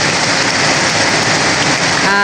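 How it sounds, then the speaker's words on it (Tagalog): Very heavy typhoon rain pours down in a loud, dense, continuous hiss and patter close by, with a brief tonal sound near the end. "Buti po ngayon ay nakauwi na po kami at sobrang lakas na po ng ulan."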